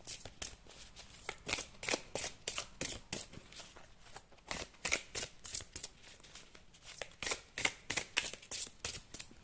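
Tarot cards being shuffled by hand in repeated quick riffling bursts, a steady rhythm of crisp card flutters close up, with no talking.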